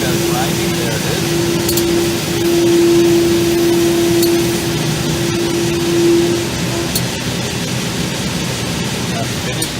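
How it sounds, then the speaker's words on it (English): A white belt grinder works stainless steel laser-cut parts carrying dross, giving a loud, steady whirring roar with a sustained droning tone that cuts out near the end while the broad grinding hiss carries on. "For the sound of the white belt grinding, there it is."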